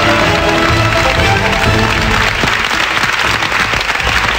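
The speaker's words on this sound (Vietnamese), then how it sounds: "các bạn vỗ tay rất là khí thế" Fifty game show contestants in a television studio clap loudly and energetically, a dense, close, unbroken burst of applause that stays strong for the whole stretch.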